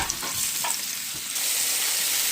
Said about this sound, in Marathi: तें आतां भाजून घेता